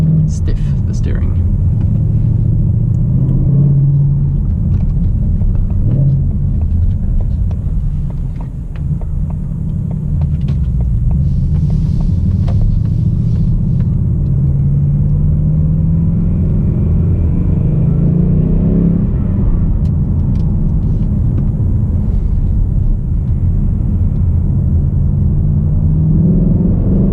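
A 2018 Ford Mustang GT V8 engine and exhaust rumble on a night drive, a steady low drone that swells and eases with throttle while someone talks over it.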